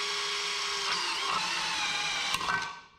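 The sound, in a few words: drilling metal on a 1967 Toyota Stout truck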